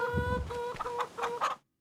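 Chickens cluck in a farming video game, several short, close clucks and squawks in quick succession over a faint steady tone, then the sound cuts off to silence.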